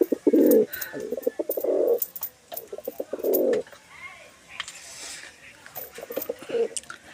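A pet pigeon named Jira coos in low, throaty pulses, several close, rounded calls repeating in a loose rhythm, with a few soft voices and clicks around them.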